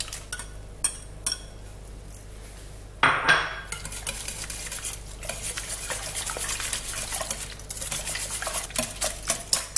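Cheese being stirred into eggs in a bowl for cheese bread dough, a few soft clinks at first, then steady scraping and clattering of a utensil against the bowl.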